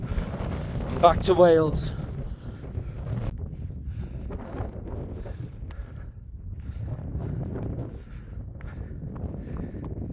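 Bitterly cold wind blows across Grey Friars, a mountain in the Lake District, as a steady low rumble of gusts buffeting the microphone. Someone talks over it, with a brief louder gust early on.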